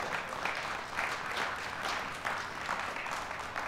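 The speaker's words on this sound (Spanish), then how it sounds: "debería aplaudir todo el mundo a eso" A church congregation applauding, a steady wash of many hands clapping at a moderate distance, even and sustained.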